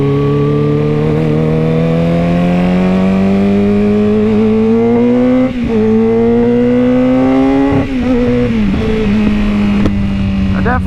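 A motorcycle engine revving while being ridden on the road: a loud, close, steady drone that climbs slowly in pitch through each gear, dips briefly at the shifts around the middle and later on, and holds a strong harmonic whine throughout.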